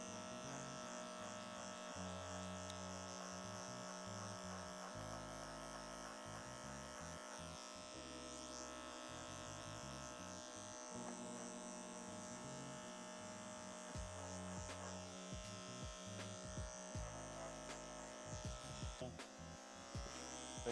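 Hair clippers fitted with a detachable 1.5 guard buzz steadily through a mid drop fade haircut, a close, continuous electric hum that shifts slightly in tone as they move over the head.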